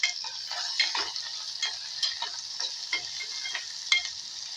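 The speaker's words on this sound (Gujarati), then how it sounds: "આની અંદર જરીક નાખશું હિંગ, પછી આપણે વઘારી દેવાનું, બરાબર. પછી હલાવી આપણે." Spices and asafoetida are tempered in a pan for a kodri dish, a soft, steady sizzle of frying with repeated scraping and stirring clicks of a spoon, close and quiet with no talk.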